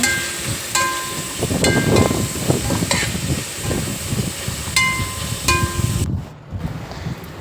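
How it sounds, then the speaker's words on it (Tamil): Onions sautéing in oil with mint and coriander give a loud, close sizzle. A spatula stirs and scrapes against the pan, and a few sharp metallic clinks ring out before the sound briefly cuts away near the end. "இப்போயே சேர்த்து வதக்கிடலாம் நல்லா வதக்கணும்"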